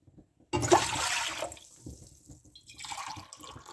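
Warm water poured from a glass into a pressure cooker, two and a half glasses in all while cooking mash dal, gives a loud splashing burst that fades, then a second softer trickle of pouring.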